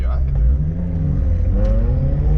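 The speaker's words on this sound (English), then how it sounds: "nice little Mercury XR4 Ti" A Mercury XR4Ti's engine rumbles close by at a car meet, a steady low drone that swells slightly as it revs.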